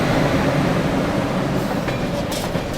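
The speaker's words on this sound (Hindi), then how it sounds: "निकल चुकी है अपनी गाड़ी देश की राजधानी नई दिल्ली से" Bihar Sampark Kranti Express running out of New Delhi, a loud, dense rumble and roar of the moving train heard from inside, with a brief high squeal near the end.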